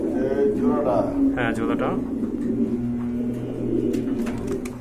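A pair of Baghdadi homer pigeons coo softly and repeatedly in a low, throaty burble, close by, while people talk over them.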